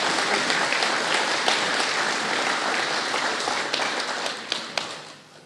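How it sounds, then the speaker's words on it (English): Large audience applauding at the Afrikanerbond centenary celebrations, a dense steady wash of many hands clapping that holds loud and then tapers off toward the end. "So you can give yourself a wonderful round of applause for that."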